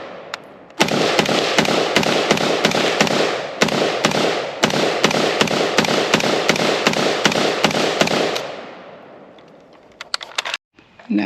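A preban German HK93 .223 roller-delayed rifle fires at an outdoor range: a long, fairly even string of sharp, loud shots, about two dozen in close succession with one brief break, then a few scattered noises after the firing stops.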